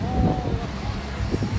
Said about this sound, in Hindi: काफ़ी ठंडी हवा चल रही है